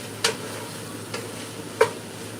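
Chicken pieces cooking in a skillet for a Velveeta chicken dish, with a quiet steady sizzle and three short scraping stirs spaced across the moment, close and alone with no talk.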